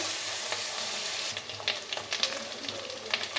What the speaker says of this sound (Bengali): রসুন বাটা আদা বাটা দিয়ে এই মশলাগুলোকে সুন্দর করে একটু কষিয়ে নেব